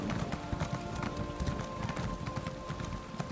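Steady clip-clop of horse hooves trotting over hard ground in a video game town, with a busy game-like ambience behind it.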